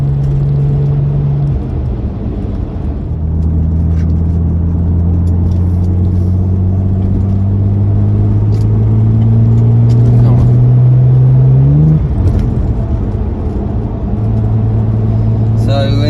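A rebuilt Audi B5 S4 accelerates on a road during a test drive, its engine drone rising steadily through the gears with a gear change midway, loud and continuous from inside the cabin.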